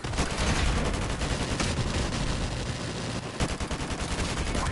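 Dense, rapid bursts of AK rifle fire in Call of Duty: Modern Warfare Remastered multiplayer crackle almost without pause, with heavy sharp reports layered over the game's busy mix.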